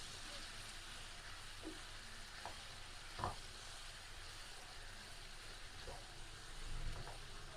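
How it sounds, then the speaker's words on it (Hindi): Chicken frying with coriander powder and other ground spices, a continuous broad sizzle with a few scattered stirring clinks and scrapes, heard alone without talk. "और इसे अच्छे से हम मिक्स कर लेंगे और इनकी भुनाई करेंगे हम तकरीबन 3 से 4 मिनट।"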